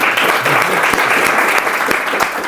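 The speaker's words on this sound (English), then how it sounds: "So one last round of applause, and thank you very much for coming." Audience applause at the close of a meetup, a dense, steady patter of many hands clapping throughout, with faint voices underneath.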